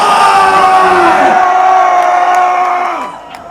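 Concert crowd at a metal show cheering and shouting, a loud sustained roar of voices and whoops that holds strong before fading away near the end.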